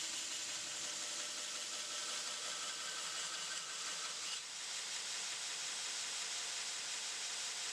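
A belt grinder running a 60 grit belt against a thick steel knife blade while grinding its bevels, a steady, loud, hissing rasp that holds almost unchanged throughout with only a slight dip partway.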